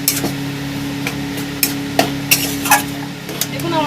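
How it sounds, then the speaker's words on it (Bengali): A utensil scrapes and clatters as fried masala spice mix is stirred in a pan for aloo chop. There are several distinct knocks and scrapes over a low sizzle and a steady background hum. "দিয়ে আমি ভালো করে নাড়িয়ে নেব"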